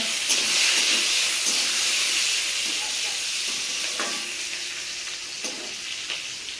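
A bay leaf hits hot oil in a wok, set for a fish and taro curry, giving a loud, close hissing sizzle that gradually softens, with a few faint clinks.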